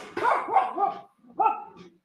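A dog named Ollie gives three quick barks in a row, a short pause, then one more, close by and fairly loud, in an indoor crafting setting.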